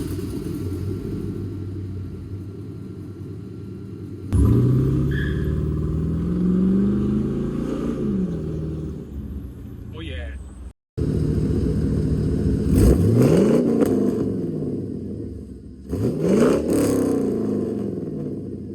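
A deep, rumbling 5.3L V8 GMC Sierra exhaust with X pipe, resonator mufflers and 5-inch tips idles, then revs up in several strong pulls with a throaty, muffled tone, close by and alone without talk.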